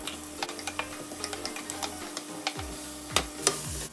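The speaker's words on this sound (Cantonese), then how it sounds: "咁啊先落洋葱起鑊" Onions frying in oil in a wok on an induction cooker, with a steady close sizzle and sharp clicks and taps of stirring scattered through it, plus a low hum underneath.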